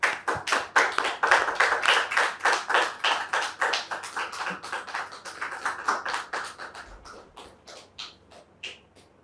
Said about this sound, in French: Dame Topé, sous vos applaudissements